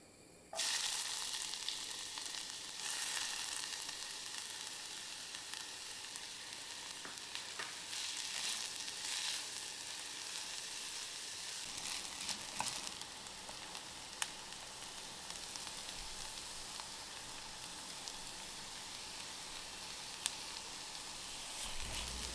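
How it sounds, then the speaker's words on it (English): Finely chopped onions and garlic sautéing in a tablespoon of cooking oil in a saucepan, a steady close sizzle that continues throughout, no talk. "Sautéing finely chopped onions and garlic in a tablespoon of cooking oil, seasoning with salt to taste."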